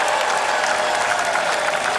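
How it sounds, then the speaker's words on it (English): A large crowd applauds the coach at the Pittsburgh Penguins Stanley Cup victory parade, a dense, loud, continuous wash of clapping with faint cheering mixed in. "Let's give the coach a good round of applause"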